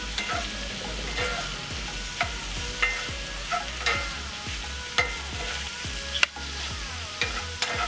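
Mushrooms stir-fried in a small skillet over raised heat, with a steady broadband sizzle and repeated scraping stirs of a utensil at a regular pace, close and moderately loud, with no talking.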